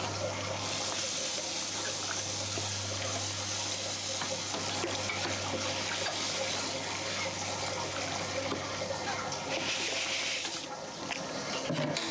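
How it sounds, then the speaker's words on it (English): Rye whiskey mash being stirred as grains are added, a steady watery swishing and sloshing that runs continuously and fairly close, with a low constant hum beneath it and no talk. "Let me stir in the rest of the grains."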